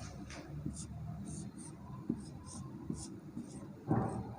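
Pen scratching on paper while reaction steps are written out, with soft irregular strokes and light taps close to the mic, quiet and alone.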